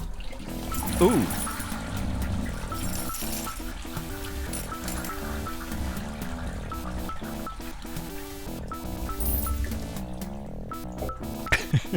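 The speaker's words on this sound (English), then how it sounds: "Thank you for the mega flush." Toilet flush sound effect played as a stream alert, a rushing, gurgling pour of water blended with music and a voice reacting.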